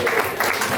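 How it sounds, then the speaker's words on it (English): An audience applauds for Al at a live show, giving a short burst of dense, steady clapping with no voices over it. "Round of applause for Al."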